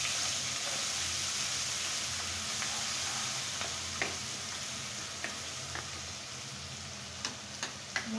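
Garlic paste fries in a pan for chicken curry, a constant close sizzling hiss with a few faint ticks and light scrapes scattered through it.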